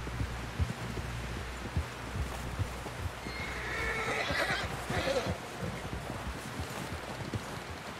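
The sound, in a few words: horse neighing in a video game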